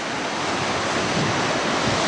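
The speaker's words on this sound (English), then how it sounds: "big waves coming in and crashing against them" Ocean surf rolls in against rocks on the Tasmanian coast, a steady loud roar of crashing water mixed with wind buffeting the microphone, with no distinct breaks.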